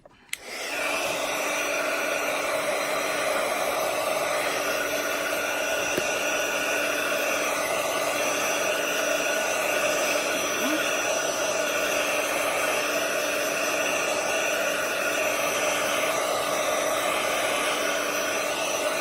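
A hair dryer blows steadily and loudly on wet craft paint on a small vision board background, a continuous close whooshing hum lasting the whole stretch without a break.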